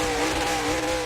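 A dirt-track race car at a Wilmot feature race spins around in a victory celebration, its engine roaring loud and close with sustained high revving and tire noise throughout.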